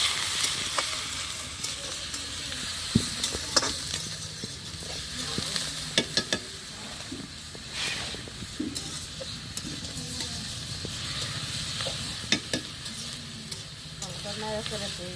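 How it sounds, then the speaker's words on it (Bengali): Meat frying in oil in a home kitchen pan, a soft steady sizzle with intermittent scraping and stirring clicks, fairly quiet and close. "মাংসটা তেলে ভাজে নিব আর তাহলে মাংসটা শক্ত হবে"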